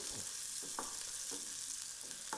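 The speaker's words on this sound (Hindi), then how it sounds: "अब सारी चीज़ों को हम 10 से 15 सेकंड अच्छे से भून लेंगे काला बिल्कुल भी नहीं करेंगे" Chopped onion and spices sautéing in a pan, a steady close sizzle with a spoon stirring and scraping in regular strokes, with no talking.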